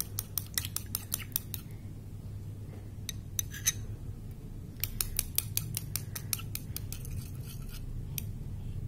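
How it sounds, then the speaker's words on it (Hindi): A lemon juice hair pack for an itchy scalp is whisked in a bowl, giving quick bursts of sharp clicking and scraping taps in fast runs, with brief pauses between them, over a steady low hum. "आधा नींबू का रस इसमें ऐड करने के बाद इसको अच्छे से फेंट लीजिए।"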